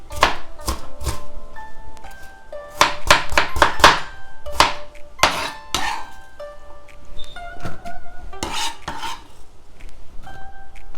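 A knife chops onion on a board in quick irregular strikes, sharp close knocks in clusters with brief pauses, set against faint steady kitchen background.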